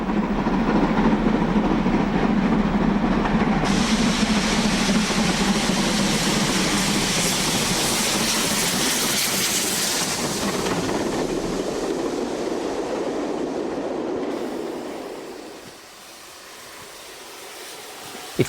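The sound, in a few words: steam locomotive train passing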